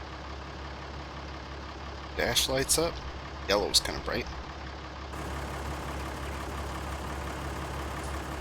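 A Farming Simulator 19 RX-170 tractor engine idles in the video game, a steady low hum running under the whole stretch while someone talks briefly over it.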